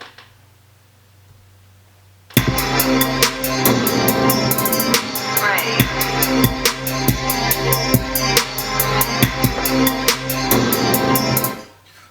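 A sampled Teenage Mutant Ninja Turtles beat built on a Maschine kicks in after two seconds of near silence, with steady punchy drums, dense layered samples and a sustained bassline playing loud and full until it cuts off at the end.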